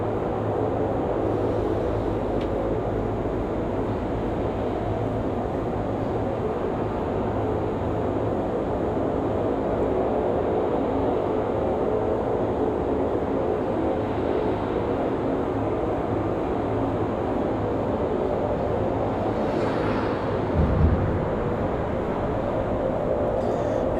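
An ATR turboprop airliner taxiing at Raleigh Durham International Airport, heard as a steady low engine drone at moderate distance that holds without a break, with a faint brief rise near the end.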